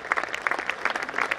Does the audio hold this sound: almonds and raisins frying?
no